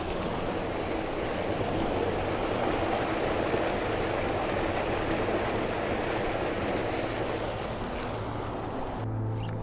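The River Stroud rushes past an old sluice on the abandoned Stroudwater Canal, a constant, dense roar of flowing water heard close and loud throughout, with no talking.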